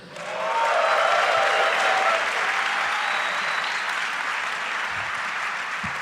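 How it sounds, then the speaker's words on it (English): Audience at a live hacker-conference music event breaks into loud, sustained applause with some crowd noise, rising quickly and holding steady throughout. "Make some noise for Exploiteers."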